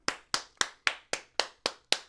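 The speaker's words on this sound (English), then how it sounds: "I'm going to clap for you guys." A single man claps his hands eight times at an even, unhurried pace, each clap crisp and close in an otherwise quiet room.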